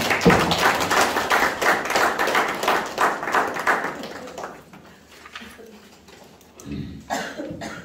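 A seated audience at a gospel training class claps together, a fairly close burst of rapid hand claps that thins out and stops about halfway through, followed by a few scattered taps and thumps.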